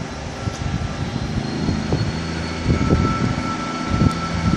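A train from Felixstowe to Ipswich pulls away with a steady mechanical rumble, and a brief horn tone sounds near the end, fairly loud and close.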